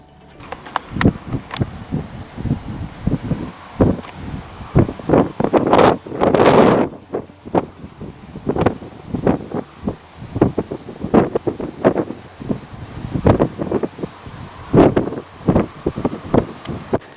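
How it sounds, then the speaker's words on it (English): Strong gusty wind buffets the microphone in repeated bursts, with rushing air and rattling, and no voices. "But it's really windy, so I can't talk while the door's open."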